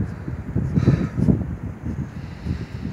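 Gusting wind buffets the microphone at an outdoor vigil crowd, rising and falling in soft, rumbling puffs over a few seconds with no voices.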